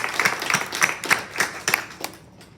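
An audience gives a round of applause at a talk on the life and art of Milly Johnstone, moderately loud clapping in uneven bursts that taper off into quiet.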